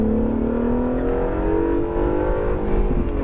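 An Acura NSX engine pulls hard on throttle with a loud, close, rising drone, its harmonics sweeping steadily upward as it accelerates through the full stretch without pause.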